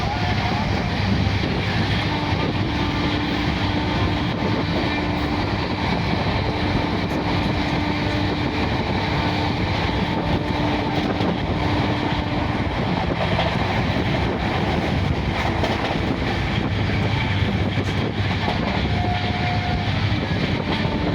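A passenger train on the Howrah to Rampurhat line rumbles along steadily near Bardhaman, a continuous loud rolling drone lasting throughout with no breaks.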